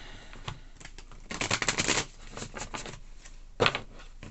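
Tarot cards being shuffled by hand, a series of soft riffling and tapping bursts with a longer flurry in the middle and a sharp snap near the end, close and fairly quiet.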